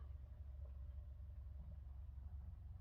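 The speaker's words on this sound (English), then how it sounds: "All you hear is cars." Distant night traffic on a holiday weekend makes a faint, steady low rumble of cars, continuous and far off, with no voices.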